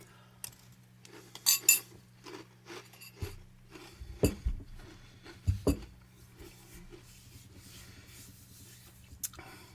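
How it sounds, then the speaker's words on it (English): A spoon scoops Rudolph the Red Nosed Reindeer cereal with marshmallows and milk from a bowl, giving soft clinks and scrapes in a few clustered bursts over a low steady hum, with no talking. "Get a spoonful with marshmallows on it."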